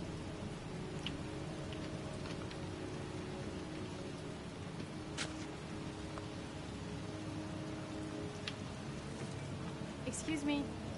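Steady rain falls outdoors in a cold cemetery in the Heavy Rain video game, a constant hiss with scattered faint drips, at low volume throughout.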